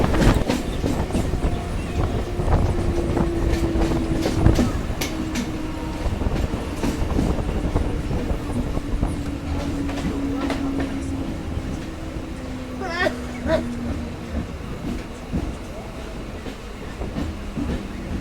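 A local train running from Sealdah toward Dankuni rumbles steadily with rhythmic clickety-clack of wheels over rail joints, heard from on board with wind buffeting the microphone and a long, gliding tone.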